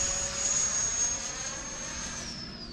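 A model Saab Viggen jet flying overhead, a continuous high turbine whine that holds steady and then drops in pitch as it passes, moderately loud and steady with no voices.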